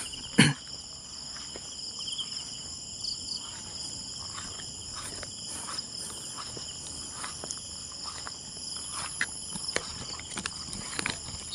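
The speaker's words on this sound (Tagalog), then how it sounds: "mga huli ng kulisap yung maririnig mo eh." Insects chirp steadily at night in a cemetery, a dense high trilling that runs continuously, with a sharp knock near the start and a few faint rustles and taps.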